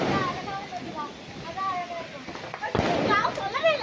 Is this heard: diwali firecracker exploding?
yes